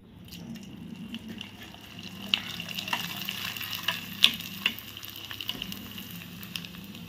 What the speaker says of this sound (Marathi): हे बघा असा मस्त तळला जातो